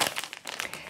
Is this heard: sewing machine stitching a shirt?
no